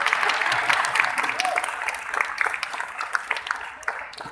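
An audience at a literary conversation event in Lahore breaks into applause, a dense burst of clapping that starts full and gradually thins and fades toward the end.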